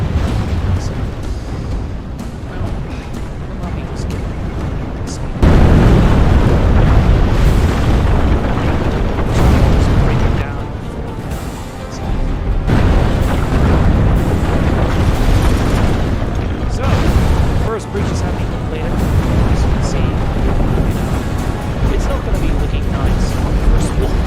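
Cannons firing in a video game: loud, dense rumbling booms and blasts that continue almost without pause, with a jump in loudness partway through and voices heard over the barrage.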